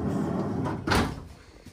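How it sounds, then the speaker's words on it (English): A barn-style sliding door inside a brand-new camper rolls along its track with a low rumble and a brief bump near the middle, heard alone and close by. "I absolutely love the barn door."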